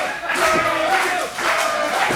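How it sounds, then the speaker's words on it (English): A wrestling show crowd roars and chants loudly during a match, a continuous wall of cheering with rising shouts, close and filling the whole moment. "Hear this crowd?"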